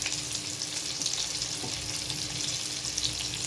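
Thinly sliced onion fries in hot oil with a bay leaf for egg biryani, giving a steady, close hissing sizzle with occasional stirring scrapes and no talking.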